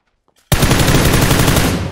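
Gunfire in the PUBG Lite video game erupts after a short silence, a loud, sustained burst of rapid automatic shots that runs for about a second and a half before tailing off.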